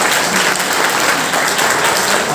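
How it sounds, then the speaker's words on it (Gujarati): An audience applauding at a Brahmin community felicitation ceremony in Navi Mumbai, loud dense clapping that continues without break. "તાળીઓ બહુ ઓછી છે."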